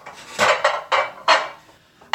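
Glass baking dishes are picked up and set down, giving several separate clinks and hard knocks in an irregular sequence, close by, with no talking.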